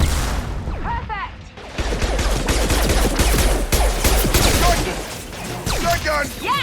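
Shotgun blasts and other gunfire in the video game Mass Effect 2 during a firefight at loading docks, loud and dense, with sharp shots and crashes through much of the stretch and voices shouting over it.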